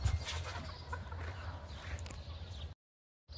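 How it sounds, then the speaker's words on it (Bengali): Chickens clucking in a poultry farm shed holding many birds, steady overlapping clucks and low farm noise close by for under three seconds before the sound cuts to silence. "এই সাইডে খোলা আছে অনেকগুলো মুরগি"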